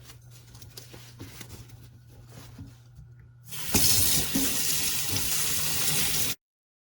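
Running tap water gushes loudly onto a tie-dye T-shirt being rinsed, starting abruptly after a quieter stretch of faint handling noise and continuing steadily until it stops.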